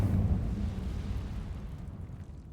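A fire spell cast in the Hogwarts Legacy video game, heard as a loud low roaring whoosh that flares at the start and slowly fades away.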